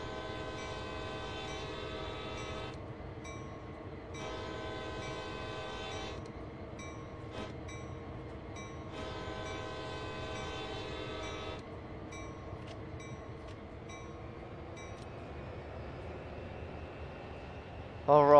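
Train horn at road crossings in a train simulator video game: long blast, long blast, a short toot, then another long blast, loud and close over a steady rolling rumble.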